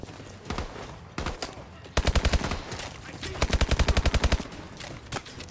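Fully automatic SM1 rifle fire in the video game Advanced Warfare: loud, rapid bursts of regularly spaced shots, the longest near the end of the clip, with a few isolated single shots between them.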